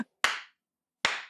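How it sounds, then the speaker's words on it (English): Two separate sharp claps from a group of people, each a bright burst fading over about a quarter second, with a short silence between them. "there was a bunch of people clapping"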